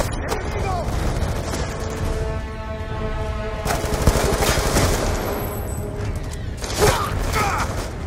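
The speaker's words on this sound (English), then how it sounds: "Gunshots came from inside." Gunfire in the Black Ops 2 campaign, with bursts of rapid automatic fire, booms and mechanical clatter coming through amid game effects, while players talk over it at times.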